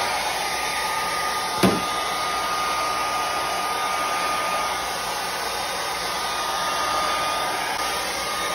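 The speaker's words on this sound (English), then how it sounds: "Take your hair dryer and dry the piece." Handheld hair dryer drying a freshly sprayed wood piece, a steady loud whooshing hum that runs without a break, with one short knock near the start.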